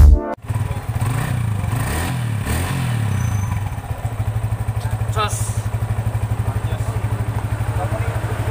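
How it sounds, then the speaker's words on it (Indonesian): A Yamaha Vixion motorcycle engine with a rough-running clutch block idles roughly and unevenly up close, with a fast uneven pulsing throb, a couple of revs and clattering knocks early on. "Motor kasar di Yamaha"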